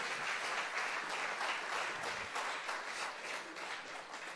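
A church congregation applauds in a steady, sustained wash of clapping from many hands, spread evenly through the room without any single voice standing out.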